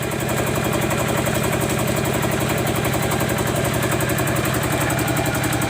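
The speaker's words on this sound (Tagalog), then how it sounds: "Nililipit ang makina." A motor-driven sugarcane press runs at a steady idle, a loud, even mechanical thrum with a constant rhythmic pulse and no pauses.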